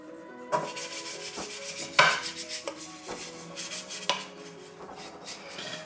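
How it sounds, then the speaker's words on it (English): Melted butter brushed around the inside of a baking tin for brioche, soft rubbing strokes against metal with a few light clinks, close and unhurried. "So I've just got a small amount in here and just line the outside with the butter."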